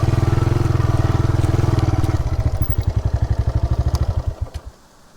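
A motorcycle on a steep mountain path holds a steady, loud engine drone, then slows to an uneven putter of separate firing pulses and fades as the engine winds down.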